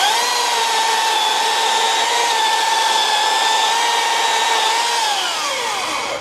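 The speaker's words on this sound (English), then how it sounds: "It was cutting faster than you could move the chainsaw down. So this has a lot of power." Powerful chainsaw at full throttle cutting through a log outdoors at an overland ranch event: a loud, close, steady high-pitched engine whine that holds even and dips in pitch near the end.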